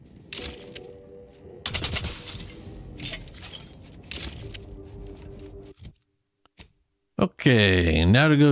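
A plasma SMG fires in the video game The Outer Worlds 2, giving rapid bursts of chattering shots in several volleys with short gaps, loud and close, followed by other game sounds.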